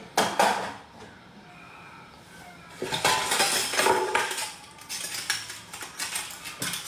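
Cups and dishes being washed by hand, clinking and knocking together with splashy scrapes in bursts, close and fairly loud, with no speech.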